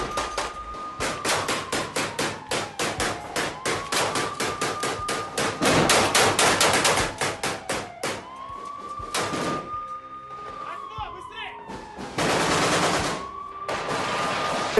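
Rapid bursts of gunfire from a Wagner Group assault on Ukrainian positions in Bakhmut's industrial district, shots fired from cover of ruins; dense, sharp volleys repeat throughout, some close and loud, with a wailing siren-like tone drifting underneath.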